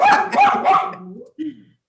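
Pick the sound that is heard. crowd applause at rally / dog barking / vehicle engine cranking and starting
dog barking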